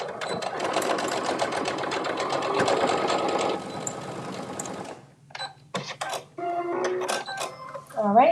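Close, steady mechanical chatter from a sewing machine zigzag stitching for about five seconds, then the motor stops and someone talks over light handling clicks.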